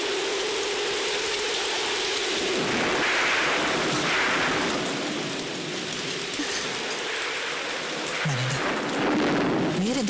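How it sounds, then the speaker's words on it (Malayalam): Heavy rain pours down loudly and steadily from start to finish, a dense close hiss with low rolls of thunder rumbling beneath it. "മഴ വരുന്നു കണ്ടപ്പോ വേഗം പോരായിരുന്നില്ലേ? ഇത്രയും ശക്തിയെ പെയ്യൊന്ന് കരുതിയില്ല."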